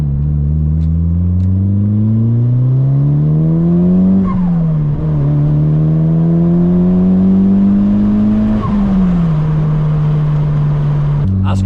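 A Mitsubishi Lancer Evo 5 turbo engine driven on a road, loud and close, rising steadily in pitch through gears with two shifts, then settling to a steady drone, with someone talking over it.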